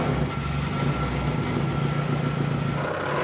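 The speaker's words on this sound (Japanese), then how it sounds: "快調な音を響かせるコスワースエンジン" A Cosworth engine in a drift car runs steadily at close range, giving a continuous, loud mechanical hum with no talk over it.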